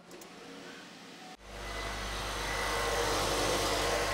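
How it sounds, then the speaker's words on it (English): A vehicle engine cranks and starts with an abrupt surge, then settles into a steady, loud, close idle hum that holds for several seconds. "you should be able to go start the vehicle now"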